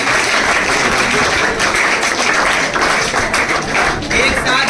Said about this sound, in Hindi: उनके लिए ताली हो जाए।